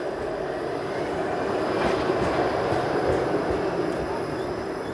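A Toronto streetcar rolls past on Queen Street East on a December day, a steady broad rumble of wheels and motor close by, mixed with traffic and wind from a moving bicycle, holding level throughout.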